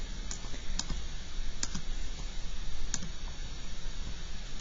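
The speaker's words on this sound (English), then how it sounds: "and then I type it in my calculator" Calculator keys are pressed one at a time to enter a linear equation, a handful of crisp, separate clicks spaced unevenly over a low, steady background hum.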